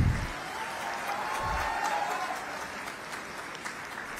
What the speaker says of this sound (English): I request all of you to give them big round of applause